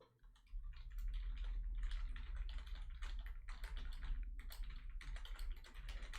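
Rapid typing on a computer keyboard, a dense stream of close, crisp key clicks with brief pauses between bursts.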